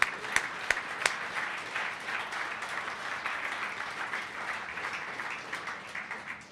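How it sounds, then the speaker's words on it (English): A seated audience at an event claps together in sustained applause, a broad dense patter opened by a few sharp nearby claps, steady throughout and fairly distant. "let's give her a round of applause"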